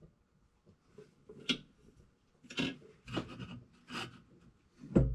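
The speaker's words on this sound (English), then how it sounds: "we are going to countersink" Countersinking rivet holes in curly maple knife scales gives several short, scratchy grinding bursts with quiet pauses between them, close and fairly soft.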